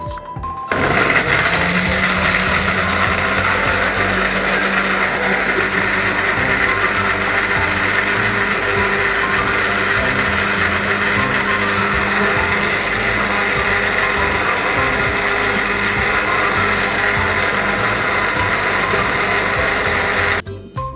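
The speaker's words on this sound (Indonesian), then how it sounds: "di sini langsung aja kita mau blender bumbunya sampai halus" An electric blender grinds spice paste for a spicy shredded-chicken cireng filling, running loud and continuous with a steady motor whine for about twenty seconds before cutting off.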